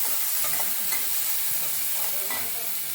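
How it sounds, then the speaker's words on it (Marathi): Chopped tomatoes sautéing with browned onions in a hot pan, giving a dense, steady sizzle with faint stirring scrapes throughout and no voices. "टोमॅटो टाकल्यावर पण ते परतच आहे"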